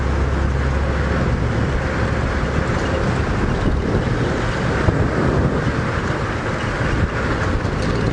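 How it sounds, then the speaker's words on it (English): Strong wind buffeting the microphone of a moving safari vehicle on an evening game drive, a loud, constant low roar and rumble with no pauses, blotting out other detail. "It's quite windy now while I'm driving"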